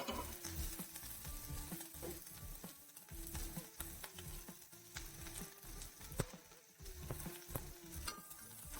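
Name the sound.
sautéing shallots, ginger, green chilli and curry leaves in pan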